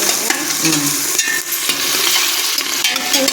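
Tomatoes frying and being stirred in a pan for tomato rice, a steady, loud sizzle with scraping stirring strokes close up and no talking.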